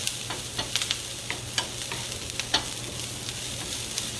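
Peppers and onions sautéing in a pan while being stirred: steady sizzling hiss with scattered scraping and clacking as the food is moved around, close and fairly loud, no talking.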